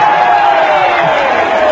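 A crowd at a political rally in Haiti applauds and cheers in one brief, loud burst of continuous clapping and voices, with a thin whistle-like tone running through it.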